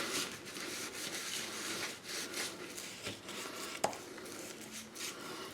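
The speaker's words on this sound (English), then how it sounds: "Start slathering some glue on this side." Glue is slathered by hand onto a board before hammer veneering, making soft, repeated swishing and rubbing strokes close by, with one sharper tap partway through and no talking.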